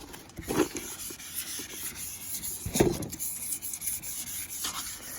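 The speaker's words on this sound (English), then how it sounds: "you start with 800 grit and sand. And make sure to keep your sandpaper wet." Slow, rhythmic wet sanding strokes of 800-grit sandpaper on a car headlight, soft and close, with a few stronger passes standing out; no voices.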